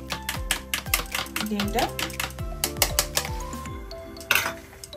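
A utensil clinks and scrapes against a pot while an egg mixture is stirred for chicken soup, with rapid repeated metallic taps and rattles at close range.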